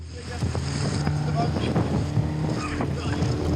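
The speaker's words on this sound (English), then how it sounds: "I put the engine into reverse to try and reverse us away towards the deeper water." A lifeboat's engine drones loud and steady as it is thrown into reverse off Atlantic rocks during a 100mph storm, with heavy wind buffeting and waves washing around the hull throughout.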